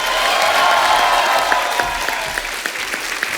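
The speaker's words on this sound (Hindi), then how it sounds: "जोरदार तालियां होनी चाहिए।" Steady applause from an audience, dense clapping throughout with a few sharper individual claps standing out toward the end.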